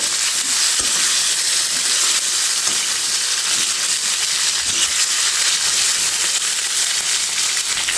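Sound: large shrimp frying in oil

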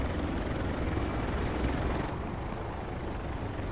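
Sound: Apache helicopter overhead in video game Project Reality

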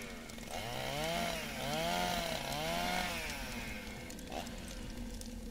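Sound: chainsaw cutting branches, from the video game The Last Dream

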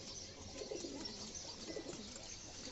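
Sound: pigeons cooing

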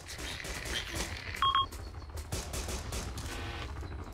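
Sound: gunfire in the video game Arma II

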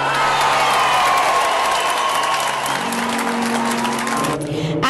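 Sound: applause at school courtyard reopening

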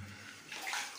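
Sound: water dripping in an old bomb shelter

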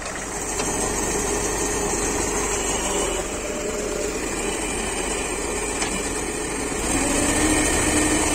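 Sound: mini JCB backhoe loader tractor engine running

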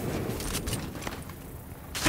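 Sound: gunfire in The Division, video game

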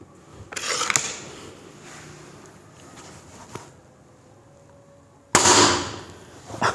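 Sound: Kral N11 spring-powered airgun firing a pellet

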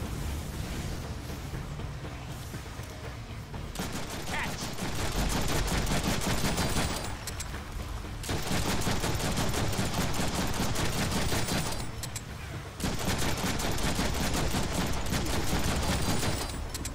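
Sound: gunfire from the Deadpool video game

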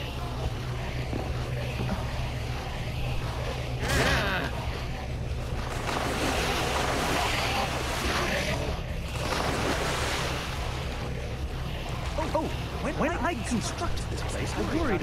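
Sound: water rushing in Minecraft Story Mode video game

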